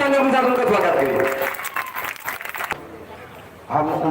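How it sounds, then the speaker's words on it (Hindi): Crowd applause welcoming a guest at an outdoor political rally in Kurla's Qureshi Nagar, loud and dense for about three seconds, then dropping off as a voice takes over; a talker speaks through the opening and again at the end. "एक बार जोरदार तालियों के साथ उनका स्वागत करिए"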